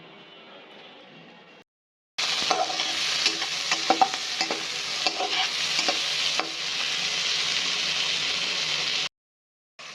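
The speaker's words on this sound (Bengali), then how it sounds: "ফ্রাইড রাইস রেডি করার জন্য এখানে চিংড়ি মাছ দিলাম, ক্যাপসিকাম দিলাম আর পেঁয়াজ দিছি।" Shrimp, capsicum and onion being stir-fried for fried rice hiss loudly in a hot pan, the steady sizzle broken by repeated scraping strokes of a spatula, starting after a short quieter stretch and cutting off abruptly near the end.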